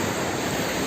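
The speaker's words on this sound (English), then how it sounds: "listening to the water like I am now." Water of the Miami River flows in a brief, steady broadband rush, close and fairly loud, with no other sounds standing out.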